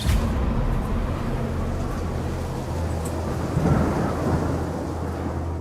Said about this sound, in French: L'orage gronde à nouveau.